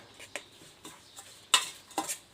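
Shrimp being stir-fried with fish sauce in a pan, heard as a few scattered scraping and clinking stirs of a utensil against the pan, with soft intermittent sizzling; two louder scrapes near the end.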